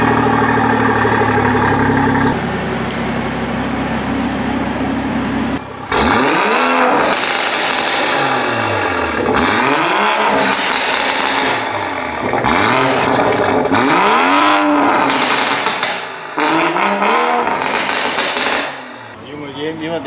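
Loud BMW B58 engine with a very loud exhaust, revved hard again and again in sharp bursts with rising and falling pitch, close by, over a steady idle and background crowd noise.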